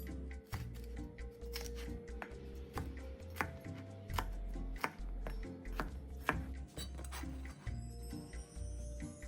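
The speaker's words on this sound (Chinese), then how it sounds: "青色与红色甜椒各半个，一样切成块状" A knife chops halves of green and red bell pepper into chunks on a board, a close series of sharp, irregular knocks with short pauses between bursts.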